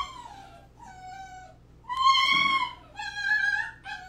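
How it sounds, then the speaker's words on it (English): Puppies whine and yip in the background of a pottery studio, high drawn-out cries coming in several bursts, moderately loud against a steady low hum. "Sorry for the yippy puppies in the background."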